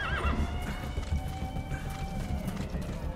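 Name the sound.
D-Horse neighing and galloping, Metal Gear Solid 5 video game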